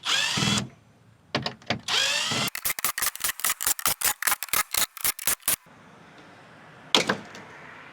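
A power drill with a Torx T30 bit backs out bolts from a Toyota tailgate pad: a few whirring bursts, then a rapid run of ratcheting pulses, a pause, and one more short burst, close and clear.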